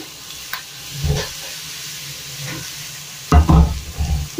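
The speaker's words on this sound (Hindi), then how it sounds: "अभी अच्छी तरह फ्राई हो जाए ज़रा" Tadka with cumin and garam masala sizzles and fries in a pan, a steady close hiss punctuated by several stirring scrapes and a louder burst of sizzling near the end.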